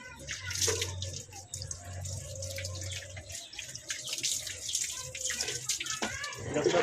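Water poured and splashing while a pig is bathed at home, a running, tap-like flow with drips that continues through the clip alongside a steady low hum, with a voice talking faintly in the background.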